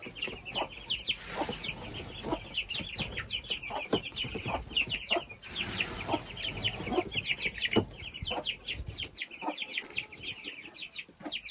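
Chickens in a coop at a dacha, including young chicks, clucking and chattering continuously in a busy, close flock with many overlapping calls throughout.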